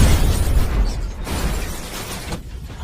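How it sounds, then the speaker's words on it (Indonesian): Loud, rumbling blast of a car explosion, with debris and crackling tailing off, no voices. "mengejar mobil yang menculik Sambo, namun tiba-tiba mobil tersebut meledak yang membuat Ahsan terpental"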